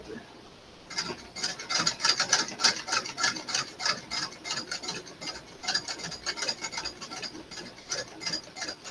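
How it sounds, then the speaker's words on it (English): Rapid mechanical clicking and whirring of a sewing machine stitching in bursts, close up, with a brief quiet pause near the start. "just let the sounds of the sweet, sweet sewing machine carry you on."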